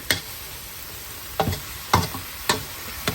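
Pork neck, meatballs and mixed vegetables stir-fried in a wok with a metal spatula, giving sharp scraping strikes about every half second over a steady sizzle, close and fairly loud with no talking.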